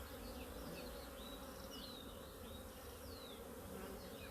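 Honeybees buzz steadily around an aggressive hive during a varroa mite count, a dense, continuous insect drone close by with faint high whines of individual bees passing, no voices.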